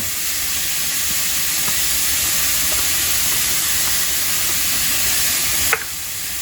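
Ham stirred into fried rice in a hot pan, a steady loud sizzle and hiss running throughout, with a few faint scrapes and a sharp clink near the end.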